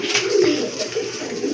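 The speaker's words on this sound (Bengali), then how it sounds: "অসম্ভব সুন্দর একটা নট কবুতর" Cooing of an uncommon-colored domestic pigeon, a fancy breed, at a market stall selling local and foreign pigeons; a soft, continuous, fairly close coo that swells and fades over a faint background hum.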